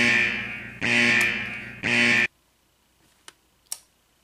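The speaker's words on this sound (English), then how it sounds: "That's the new rant alarm." A harsh, nasal alarm buzzer blares in two long bursts, loud and close, followed by near silence broken by a couple of faint clicks.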